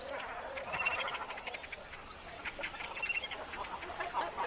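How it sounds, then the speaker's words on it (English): Cormorants calling at a nesting colony in dead trees by a Balkan lake, a faint continuous chatter of overlapping croaks and squawks from a distance. "thousands of cormorants use dead trees for their nests"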